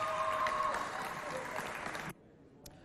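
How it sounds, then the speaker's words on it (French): A parish youth gathering's audience applauds its two supervisors, a dense spread of clapping that runs steadily for about two seconds before cutting off abruptly, leaving near silence with one faint late tap. "On applaudit pour vos deux encadreurs qui ont fait un bon travail."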